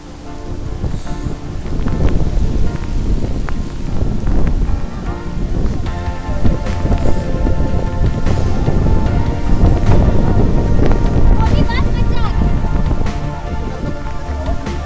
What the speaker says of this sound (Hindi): क्या तेज हवाएं चल रही है मंदिर के बाहर